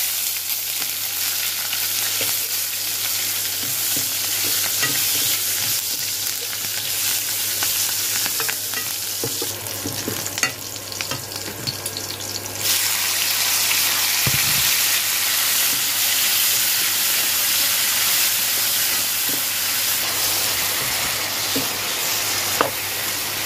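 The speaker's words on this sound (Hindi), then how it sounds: "अभी मैं प्याज डालूंगी" Chopped onions hit hot oil and fry in a long, steady sizzle that shifts slightly in intensity midway, with a few faint clicks of a utensil and no speech.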